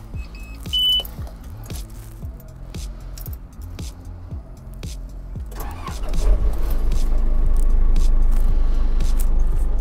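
Rubber-tire backhoe diesel engine starting: an idling rhythmic clatter with a beep, then the engine catches around six seconds and settles into a loud, steady rumble close by.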